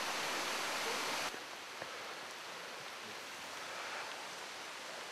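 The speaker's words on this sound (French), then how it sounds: "emporté par le bruit de la cascade" A steady rush of falling water fills the scene, loud at first and then a little softer but constant throughout.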